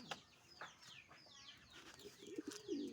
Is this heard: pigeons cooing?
yes